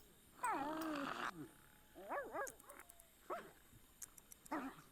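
A dog in a pet life-sim video game barks and yips in short bursts with whimpering whines between them, fairly close and moderately loud, with small clicks in the background.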